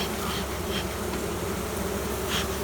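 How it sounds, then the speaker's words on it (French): Steady, dense buzzing of many honeybees close by at an open hive being smoked by a beekeeper, a continuous drone with occasional louder passes of individual insects. "on voit les abeilles qui, avec la fumée maintenant, redescendent"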